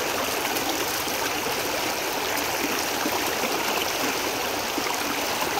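River current rushing through a Keen A52 gold-panning sluice, a steady broadband wash of flowing water with constant hiss and gurgle, close and continuous throughout with no voices.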